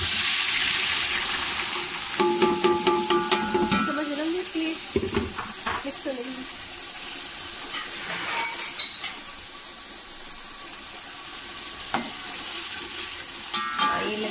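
Ground ginger and garlic paste hitting hot oil for a fish curry, giving a steady sizzling fry with intermittent stirring scrapes and clinks of a spoon against the pan, no talking.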